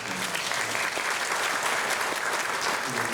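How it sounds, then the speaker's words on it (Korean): Sustained audience applause fills a film screening Q&A at the Busan International Film Festival's Busan Cinema Center, a dense, steady wash of many hands clapping at even loudness throughout. "너무 좋은 얘기를 해주셔서 박수를 한번 부탁드립니다."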